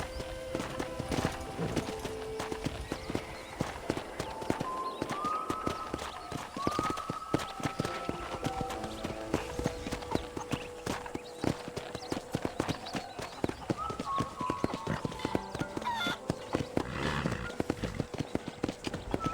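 Rapid, continuous clip-clopping of horse hooves in the video game Red Dead Redemption, with a soft musical backdrop and a brief whinny amid the steady trotting rhythm.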